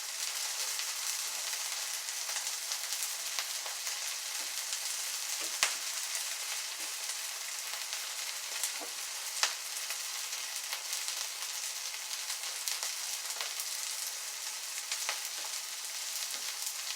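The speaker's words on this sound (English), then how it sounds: "You hear them sizzling, they're cooking." Chickpea patties frying in a pan give a steady close sizzle and crackle with a few sharp pops, unbroken and without speech.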